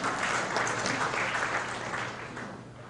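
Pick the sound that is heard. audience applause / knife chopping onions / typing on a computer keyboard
audience applause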